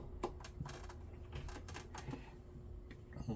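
A Baby Lock Quilter's sewing machine stitching quilt blocks, giving a quiet, rapid mechanical clatter of needle strokes with soft clicks, fairly low in level and steady throughout.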